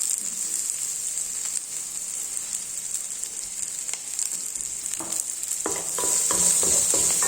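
Fish kuzhambu mixture is sautéed in a pan with a steady sizzling hiss, and soft stirring and scraping grow busier and louder toward the end, close up with no voices.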